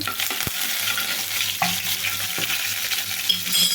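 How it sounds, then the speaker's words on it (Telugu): Cumin, dried red chillies and curry leaves sizzle steadily in hot oil, with a continuous close frying hiss and occasional stirring clicks and scrapes in the pan, no voices. "కొంచెం జీలకర్రండి ఎండుమిరపకాయ తుంచేసుకున్నాం చూడండి వేగింది కొంచెం కరివేపాకు వేసుకుందామండి"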